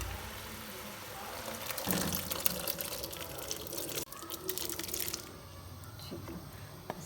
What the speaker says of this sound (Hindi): इस तरह से सारे चने जो उसके अंदर पानी था उसके साथ ही हमने इसके अंदर ऐड कर दिए हैं।